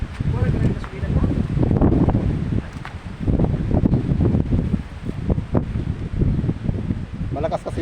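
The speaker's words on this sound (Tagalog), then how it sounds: "Malakas kasi yung guys yung hangin eh" Strong wind gusting across a beach where people are trying to cook over an open fire, a loud rumbling buffet of air that swells and drops throughout, with voices talking over it.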